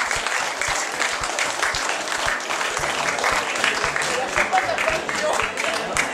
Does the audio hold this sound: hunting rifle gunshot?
no